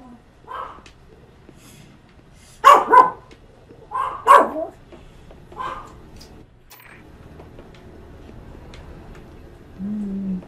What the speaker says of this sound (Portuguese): Temos cachorro latindo também.